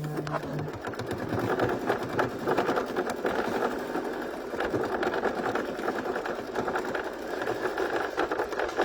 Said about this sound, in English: there's a lot of stitching here today on this thing